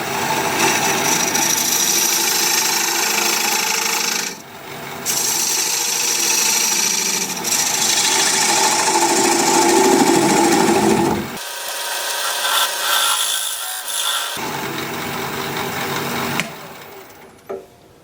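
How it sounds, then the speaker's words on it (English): Wood spinning on a lathe as a dovetail tool cuts into it, a continuous loud rasping scrape with brief pauses and shifts in pitch where the cut changes. "I need to raise my tool rest just a bit so I can use my dovetail tool."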